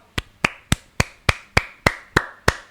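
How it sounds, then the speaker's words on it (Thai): Eight sharp hand claps at a steady, slightly slow rhythm, close and crisp with short decays, with nothing else heard between them. "ปรบมือครับ"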